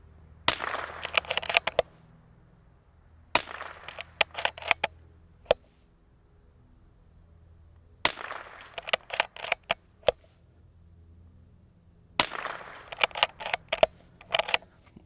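Suppressed .22 LR rifle firing in bursts of sharp, clipped cracks with a few quicker follow-up shots, separated by stretches of quiet outdoor air, fairly close and distinct, with no talking.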